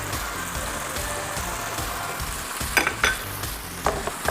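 Coriander rice frying in a pan of hot oil gives a steady, close sizzle with a few sharp stirring clatters toward the end.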